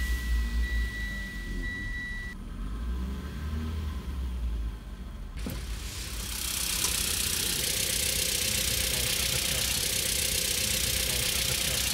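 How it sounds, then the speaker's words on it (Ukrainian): A car engine is started with a key and button, then settles into a steady, loud idle rumble close by, with an earlier quieter stretch before the ignition. "І зараз я заведу двигунець."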